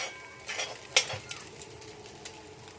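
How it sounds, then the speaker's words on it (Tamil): Eggs frying fast over high heat in a pan for Chinese egg fried rice, a faint soft sizzle broken by a sharp metallic clink and light spatula scrapes. "முட்டையை நல்லா ஃப்ரை பண்ணிக்கலாம்"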